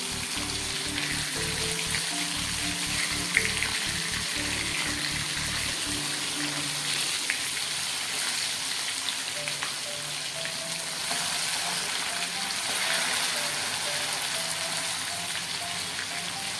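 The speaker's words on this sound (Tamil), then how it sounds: "நல்லா பொரிஞ்சிட்டு கொஞ்சம் வறுத்து போடுவோம்" Fish frying in oil, a loud, steady hiss and bubbling sizzle that carries on unbroken, close up, with a low rumbling hum underneath early on.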